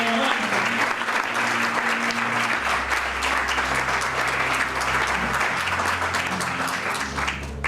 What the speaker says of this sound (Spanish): Qué bueno que se puede aplaudirle. Vamos, aplauda al Señor,